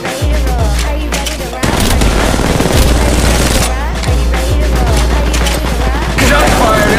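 Dense, loud gunfire from the video game Apex Legends, rapid automatic bursts and heavy booming shots rolling almost without pause, with game voices talking over the battle.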